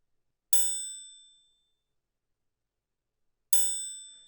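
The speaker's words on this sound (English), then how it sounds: "Without the pitching or the shortening, it sounds like this." Two clear, ringing triangle strikes spaced a few seconds apart, each a bright metallic ding that decays slowly into silence.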